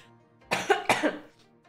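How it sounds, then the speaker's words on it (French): A person coughs twice in quick succession, close and fairly loud, against a quiet indoor background during a tabletop role-playing game stream. "je vais tousser"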